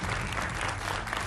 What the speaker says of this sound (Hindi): तालियों के साथ उनका अभिनंदन कीजिए।